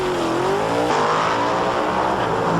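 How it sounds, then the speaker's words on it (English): Drag race cars launching hard off the start line at the 1993 NHRA Canadian National Open at Race City in Calgary, a loud sustained engine roar with rising pitch close by, no talk over it. "Good start by Lee against the front end of that car, bouncing pretty good"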